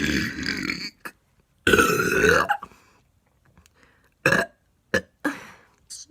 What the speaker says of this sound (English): These burps are weak.